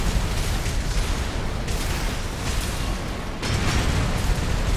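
Songbird grenade cannons on a mech in Armored Core 6 detonate in quick succession, dense booming blasts filling the mix with a fresh loud burst about two-thirds through.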